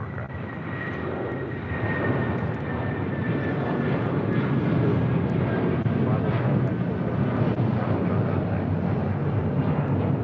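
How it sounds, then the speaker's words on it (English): A United Airlines Boeing 757-300 taking off from LAX, a loud continuous jet engine roar that swells and holds steady, heard from a distance across the airfield. "United Airlines 1069 taking off to Chicago O'Hare on a 757-300."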